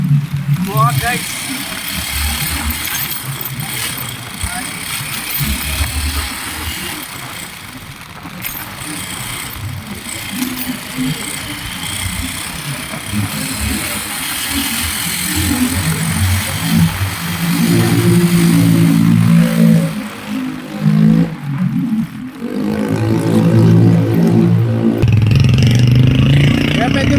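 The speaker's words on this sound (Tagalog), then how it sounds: "Naipit sa traffic." Road traffic stuck in a jam, with car and motorcycle engines idling and revving close by. The engine noise rises and falls throughout and grows louder and rougher toward the end, with voices now and then over it.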